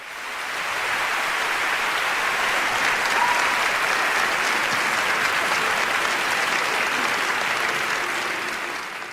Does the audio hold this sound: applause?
yes